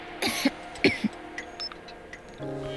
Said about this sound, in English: How is anyone supposed to sleep with you coughing up a storm?